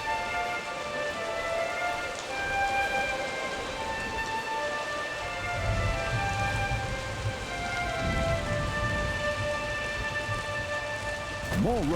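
Steady rain with a low rumble of thunder during a storm in the dungeon-building game Dungeons 4, a continuous wash of drops with a heavier rolling swell partway through and a brief sharp accent near the end.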